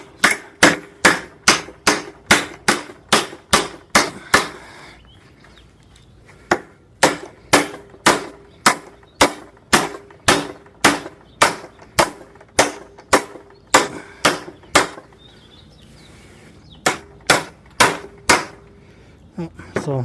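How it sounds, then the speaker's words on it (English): Sharp metal hammer blows strike a part resting on a tabletop during an oil catch can install on a 5th gen 4Runner, coming in fast regular bursts with short pauses between runs, loud and close. "So I'm just going to hold this down and start hammering."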